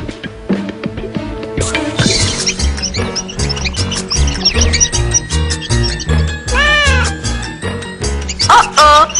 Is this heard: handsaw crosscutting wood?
no